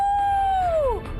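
A single short, high howl-like wail holds steady and then slides downward, sounding like a voice imitating a wolf.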